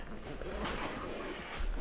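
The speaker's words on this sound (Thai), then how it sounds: "เนี่ยซิป เปิดมานี่ปึ๊บ เปิดมาให้รอบเลยนะ" The zipper on a compartment of a Ulanzi BP10 25-liter camera backpack is pulled open in one continuous, close, raspy run lasting under two seconds, with no speech over it.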